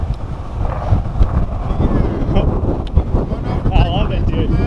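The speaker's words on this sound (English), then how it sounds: "Super windy." Strong wind buffets the microphone in steady, rumbling gusts in Los Angeles, with faint traffic-like noise in the background.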